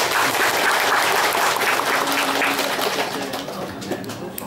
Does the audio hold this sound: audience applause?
yes